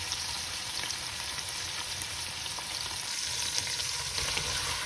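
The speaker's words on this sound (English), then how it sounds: "And we let them cook, we keep on stirring them, and you will see how the color will change soon." King prawns fry in hot oil in a pan while being stirred, giving a steady close sizzle with occasional scraping and crackles and no talk.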